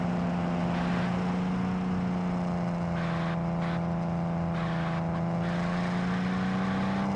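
A car engine in a racing video game drones at a high, steady, whiny pitch that rises slightly over several seconds; loud and continuous with no voices.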